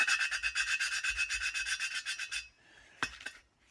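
New valves in a BSA Fury SS (E35SS) cylinder head are lapped with coarse grinding paste, giving a steady, rhythmic, gritty rubbing close up that stops and is followed by a single sharp knock.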